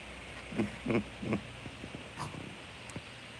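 Dog with a ball held in its mouth giving a few muffled, stifled barks and whines, three stronger woofs then softer muted huffs, close by.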